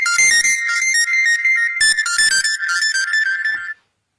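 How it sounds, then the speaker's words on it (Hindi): A phone ringtone plays a loud, close electronic melody of repeating tonal phrases for nearly four seconds, then cuts off abruptly into silence. "फोन आ रहा था बार बार"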